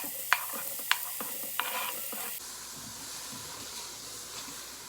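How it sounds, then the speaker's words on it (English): Mushrooms sautéing in a tablespoon of olive oil in a pan on the stove give a soft steady sizzle and hiss, with a few sharp utensil clinks and stirring scrapes early on and no talk. "we'll add in a tablespoon of olive oil and we'll saute the mushrooms until they shrink down in size"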